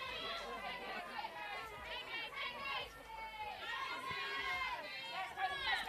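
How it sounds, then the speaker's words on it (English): Steady murmur of a crowd at a softball game between Victoria and Queensland, Gilley's Shield, a continuous busy chatter of many voices with occasional brighter calls rising out of the mix throughout. "Still a good crowd out here."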